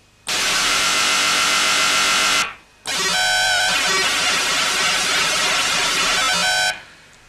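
Synthesizer noise oscillator producing random noise in two loud sustained bursts, the first a smooth broadband hiss, the second a grittier, more modulated noise after a short gap, with no voices.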